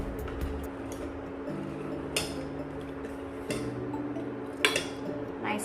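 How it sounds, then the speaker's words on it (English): A spoon clinks and scrapes against a cooking pot of dal with green chili and coriander powder, giving a few sharp metallic taps over a low, steady background hum. "Nicely give it a mix."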